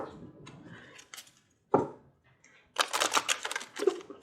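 Brief bursts of riffling and flapping tarot cards, shuffled in a few short runs with pauses between, close by.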